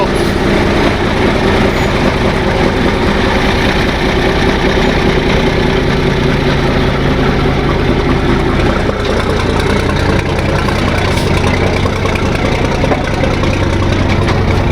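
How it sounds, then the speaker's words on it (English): A truck engine idles steadily at close range, a continuous low rumble that holds an even level throughout with no talking. "the last thing we got to do, move Troy's truck"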